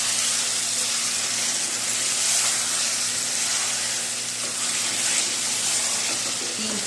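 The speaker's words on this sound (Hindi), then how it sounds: "अब अच्छे से इनको फ्राई करेंगे।" Chicken pieces for green chicken karahi fry in a pan with a steady, loud, dense sizzle that carries evenly throughout, with no talking.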